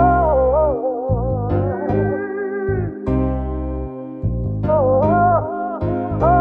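Three chopped vocal samples loop in a steady soul-style musical pattern over a deep bass line, the pitched voice fragments repeating with a slight echoing delay tail.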